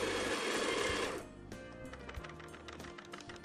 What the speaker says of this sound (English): It's going to grind the right amount of beans into my portafilter.